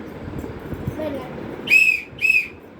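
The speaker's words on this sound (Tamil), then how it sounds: "இது வந்து ஸ்டீல் விசில், பிளாஸ்டிக் விசில் இல்லை." A steel toy whistle gives two short, shrill, steady blasts in quick succession, close and loud over a low background hum.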